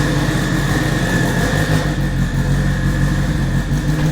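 An all-wheel-drive Honda Civic Si built to about 1000 wheel horsepower runs close by with a loud, steady engine drone and a constant humming tone, sounding more like a held idle than sharp revs.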